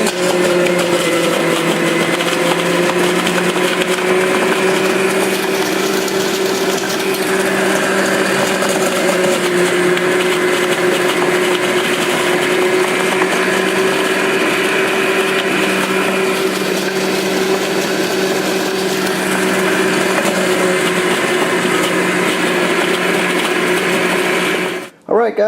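A juicer grinds carrots with a loud, continuous motor whine that holds steady for the whole stretch, a close, droning hum that stops at the very end.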